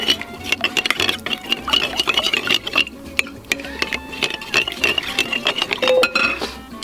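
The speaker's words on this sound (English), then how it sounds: "Grab a couple of eggs. Kind of get that blended." Eggs whisked in a bowl for cornbread, a rapid, continuous clatter of utensil against dish with a busy tapping rhythm, close and fairly loud throughout.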